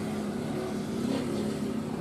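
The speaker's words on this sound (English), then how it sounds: "excuse the noise of the lawnmower" A lawn mower engine drones steadily nearby, a continuous mid-loud hum with a slight waver, running on its own without any talk over it.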